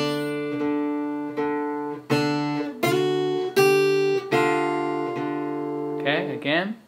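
Guitar lick with notes plucked one after another, sliding from a minor to a major chord with a suspended fourth, clear and close, each note ringing before the next, ending in a quick slide.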